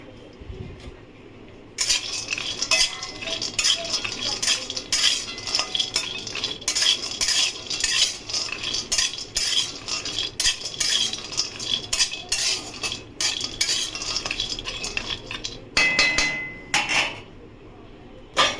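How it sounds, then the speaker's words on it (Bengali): Dry fruits and nuts are dry-roasted in a wok with no oil, producing rapid, continuous metallic clatter and scraping as a spatula stirs them, loud and close throughout. "এই কটা আমি একসাথে শুকনো খোলায় নেড়ে নেবো"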